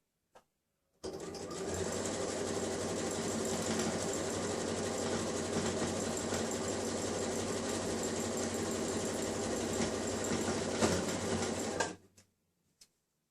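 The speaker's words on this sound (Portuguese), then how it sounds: "Estico o elástico e costuro até chegar nele." A sewing machine runs in one steady, continuous burst, stitching stretched elastic onto a simple dress, with brief faint handling noises before and after.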